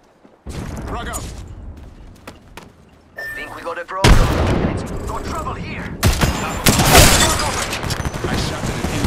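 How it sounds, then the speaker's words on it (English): Gunfire in the video game Apex Legends comes in rapid, loud bursts of shots with clanking weapon sounds between volleys, building into heavier sustained fire, with voices mixed in. "I shot at an enemy."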